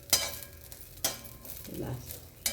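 Mint leaves roasting in a pan for pudina powder, with a steady soft sizzle and a few sharp scraping stir strokes of a spatula against the metal.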